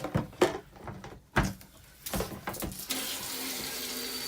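Water runs through the shower line of a Casita travel trailer during winterizing, with clunks and handling knocks first and then a steady hiss of flow from the tap.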